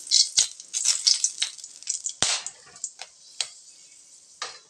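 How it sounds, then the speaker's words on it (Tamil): Whole cardamom, a piece of cinnamon and cloves crackle and sizzle in hot ghee for a rava milk payasam, giving close, bright frying with sharp pops and a few sudden spits. "இப்போ அந்த நெய்யிலேயே ஒரு 4 ஏலக்காய், ஒரு துண்டு பட்டை, 2 லவங்கம் போட்டுக்கலாங்க"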